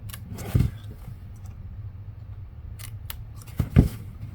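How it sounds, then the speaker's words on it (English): Scissors snip paper at a craft table while trimming a milk carton treat box, two short crisp cuts about three seconds apart with quiet room noise between them. "grab a pair of scissors because this side's a little bit longer"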